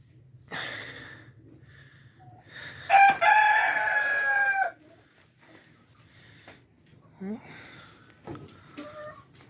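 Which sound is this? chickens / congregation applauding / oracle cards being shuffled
chickens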